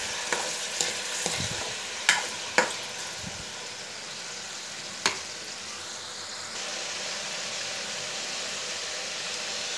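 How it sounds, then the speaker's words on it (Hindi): Chicken frying in a pan for a kachnar dish, with a steady sizzle throughout and a few sharp scraping clinks from stirring in the first half. No voices. "इसे हम अच्छे से फ्राई करेंगे।"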